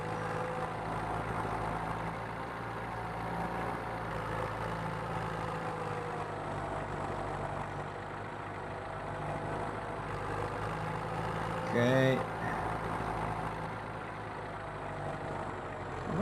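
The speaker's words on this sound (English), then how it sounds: "for an old school tractor, guys, this thing can really motor" An old school tractor engine drives steadily in a farming game, a low, constant droning hum throughout with a brief faint clink near the end and a single short spoken word.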